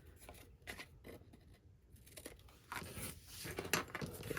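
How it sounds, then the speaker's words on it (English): Scissors make quiet, close snips and crisp cuts through paper pieces for a scrapbook mini album, with light rustling and crinkling between the cuts. "I'm going to take my scissors and I'm going to cut angles on all my pieces"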